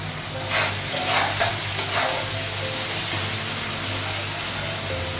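Food fries in a pan in a Bengali home kitchen with salt added, a steady, close hiss and sizzle with a few brief stirring scrapes near the start.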